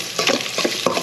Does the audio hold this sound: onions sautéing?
yes